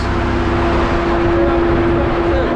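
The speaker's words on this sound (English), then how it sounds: "So, we're dialing in Wes's Fiesta, the new turbo." Turbocharged Ford Fiesta Zetec engine held on a dyno, a loud, steady droning hum that stays near and constant throughout, with no talk over it.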